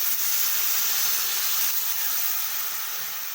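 Water splashes into a hot pan already holding cardamom, cloves and cinnamon, setting off a loud, steady hissing sizzle that fills the whole moment and eases slightly toward the end, with no voices.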